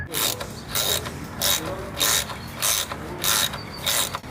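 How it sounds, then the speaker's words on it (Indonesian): A part is being tightened on an old Mustang GT left abandoned in a field, giving rhythmic bursts of ratcheting clicks about every half second, close and fairly loud, with no voices. "Nacho, kenapa kamu tidak langsung kencangkan saja itu?"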